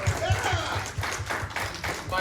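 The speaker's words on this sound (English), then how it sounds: "Everybody, please give a lovely round of applause for Alan" Convention panel audience at Days of the Dead Chicago applauding Allen Covert, busy clapping with rhythmic cheering pulses, fairly close and lively, with voices mixed into the crowd noise.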